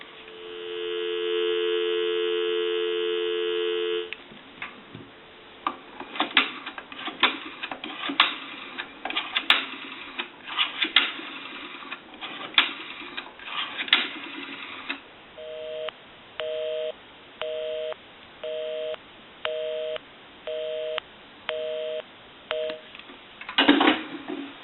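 A repaired three-slot payphone converted for home use: a steady dial tone for several seconds, then a burst of rapid clicking, followed by a regular on-off busy signal repeating about seven times.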